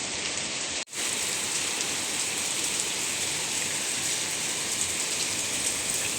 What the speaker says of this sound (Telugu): ఇంత జోరు వర్షం పడింది